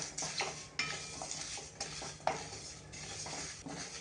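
Dabeli masala spices dry-roasting in a pan, stirred with a metal spoon that scrapes and clinks at close range in repeated strokes over a faint steady sizzle.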